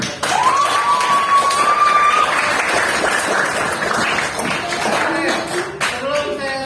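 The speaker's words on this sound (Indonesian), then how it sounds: "tepuk tangan buat kalian" A group of people clap together in a classroom after a short whistle-like tone, with voices emerging as the clapping fades.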